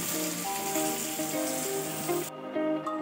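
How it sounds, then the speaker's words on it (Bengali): Curry spice paste of ground ginger, cumin, coriander, chili and garlic sizzles as it is sautéed in a pan, a steady crackling fry with tonal background sounds, cutting off abruptly before the end. "তো দেখো তরকারি মশলাটা কষাচ্ছি"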